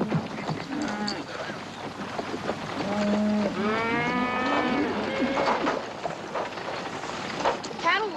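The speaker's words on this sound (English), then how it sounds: "Cattle will be glad to get a drink" A herd of cattle low and moo in repeated overlapping calls on an open range, loud and close, with a faint voice in the background.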